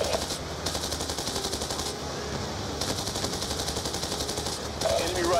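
Automatic gunfire from enemies rattles almost without pause against convoy vehicles in the Black Ops 2 video game, loud and dense, with brief gaps and radio voices talking underneath.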